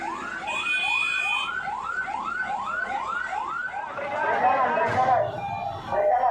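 A fire engine siren whoops loudly in quick, repeated rising tones at a house fire in Papua, then breaks into a jumbled wail mixed with crowd noise.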